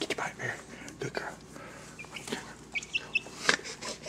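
A feisty chicken clucks in short, sharp bursts at close range, with a few higher squawks, during a scuffle with a Blue Heeler dog; a person talks over the commotion.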